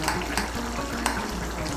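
A spoonful of ghee goes into a pan of aloo fulkopir dalna, cauliflower and potato curry, and the pan sizzles and bubbles loudly and steadily, with soft stirring clicks.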